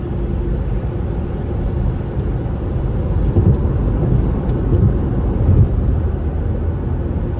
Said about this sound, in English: traffic is fucked going the other way